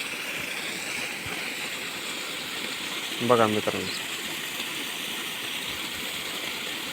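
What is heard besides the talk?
water pumped by bore motor flowing out through pipe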